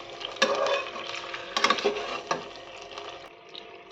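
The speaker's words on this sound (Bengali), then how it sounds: "এবার ভালোভাবে 5 থেকে 6 মিনিট সময় ধরে চিকেনগুলোকে ভেজে নেব।" Marinated chicken pieces frying in a pan for lemon pepper chicken, giving a steady sizzle broken by a few sharp clatters of stirring against the pan.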